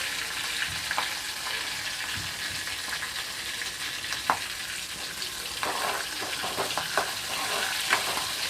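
Spicy prawns with curry leaves and chili frying in a pan, a dense steady sizzle with occasional sharp pops and stirring clicks, close and unaccompanied by voices.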